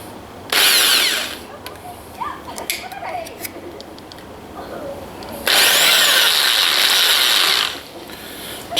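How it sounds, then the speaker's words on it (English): A power drill bores a small pilot hole in two bursts, a short high whine near the start and a longer steady one later, with quiet ticking and handling noises between them. "we're just going to drill a hole through here, a small pilot hole to start with."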